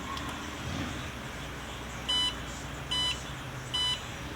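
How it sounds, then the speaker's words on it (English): A Promatic receiver gives three equal, evenly spaced electronic beeps over a quiet room background, with no talking. "3 equal beeps, and we're back in RF mode"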